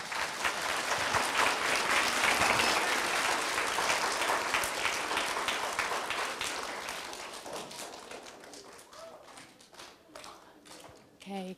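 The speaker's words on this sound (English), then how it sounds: "Let's give her a round of applause" A school assembly audience of children and staff bursts into loud, sustained applause that gradually thins and fades, with scattered voices and a few late claps near the end.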